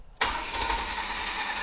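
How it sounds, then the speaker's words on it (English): A flooded Chevrolet Nova engine cranks and catches abruptly after a moment of near silence, then settles into a loud, steady running roar close by, with no talk. "We're gonna fire it up and see if it actually moves the car."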